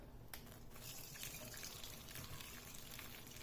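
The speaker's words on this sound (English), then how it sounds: "So you want to get your boiling water" Boiling water pours steadily from a kettle for wild garlic leaves, a continuous splashing gush of liquid close by that runs without pause throughout.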